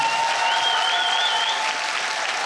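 An audience at a public lecture in Changwon applauds, a thick continuous wash of clapping from a large crowd, loud and even throughout the short stretch.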